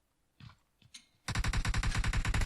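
Rapid automatic M4 rifle fire in PUBG Mobile, a loud sustained burst of evenly spaced shots following a couple of brief quieter sounds.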